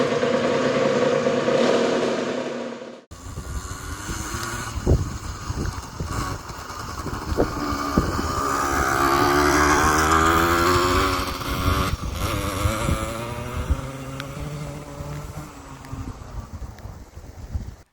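An Aprilia SX50 motorcycle engine starts up and runs loudly and steadily close by, revving as the rider sets off, with strong wind buffeting throughout and no talking.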